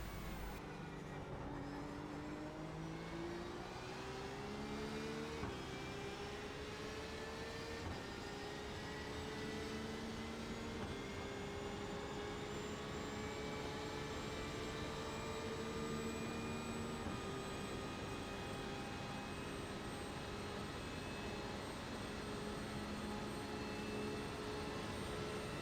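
BMW M8 and Porsche 911 RSR GTE race cars lapping a banked track in the iRacing simulator, engines droning loud and steady with rising and shifting tones through gear changes, continuous throughout without talk.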